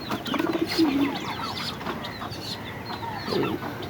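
Pigeon chicks being fed by their parents, racing pigeon squabs in a loft, give a few soft, close cooing and squeaking calls over steady background bird chatter and rustling.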